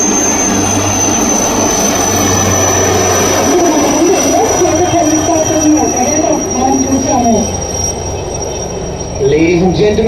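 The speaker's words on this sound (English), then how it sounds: "towards your left, 3 magnificent Chetak helicopters are approaching the grandstand" Three Chetak helicopters approach a naval grandstand in banner formation at a fleet review in Visakhapatnam, with a loud steady turbine whine and a heavy rotor drone that keeps going while voices speak over it.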